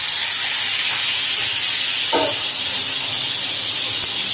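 Mangoes dropped into hot oil with mustard seeds, five-spice and chili, giving a steady loud hiss of sizzling with a brief sharper crackle partway through.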